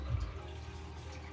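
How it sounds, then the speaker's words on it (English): Hot water poured from the bottom of a container to mix and dissolve ink dye, a steady close liquid rush with a stronger splash at the start and no talking. "now we add the hot water"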